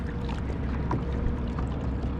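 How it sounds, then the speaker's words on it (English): A boat engine drones steadily with water rushing, a constant low rumble as a shrimp boat passes by nearby. "Shrimp boat's going by. Pontoon went by."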